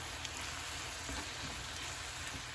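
Chicken with ginger and low-sodium soy sauce cooking in a pan, a soft steady sizzle and crackle at low level with no talking.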